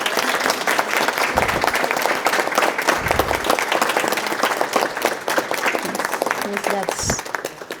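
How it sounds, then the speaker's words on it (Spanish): Audience applause at the close of a training course for professional caregivers, steady dense clapping throughout with a few louder thumps and voices mixed faintly underneath. "Un aplauso para todos y gracias."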